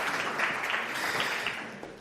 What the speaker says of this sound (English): Can you please give Rix a warm round of applause